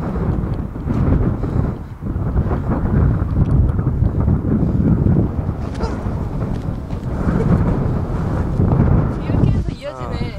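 Strong, steady wind buffets the microphone at the rim of a volcanic crater on a Jeju oreum, a loud continuous roar with gusty swells throughout and a brief voice near the end.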